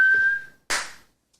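A person whistles one clear sustained tone that fades over about half a second, then a short breathy burst of air follows, close and isolated with silence afterward.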